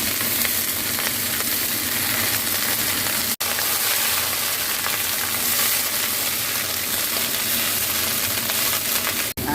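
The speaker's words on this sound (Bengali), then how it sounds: "তেলেতেই আমি এই পেঁয়াজ কলিগুলো ভেজে নেবো। পেঁয়াজ কলি আর এই কাঁচা টমেটোটা ভেজে নেবো।" Onion stalks and green tomato fry in oil, giving a loud, continuous sizzle and bubbling crackle that runs steadily close up, with two brief cuts and no talking.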